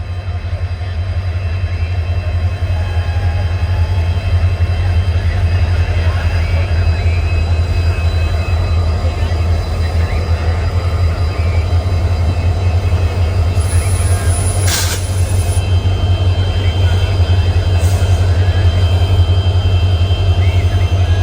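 A Bengaluru to Mangaluru express train hauled by WDG4 diesel locomotives on a ghat section gives a constant deep rumbling drone heard from inside a coach, with steady wheel and engine noise throughout.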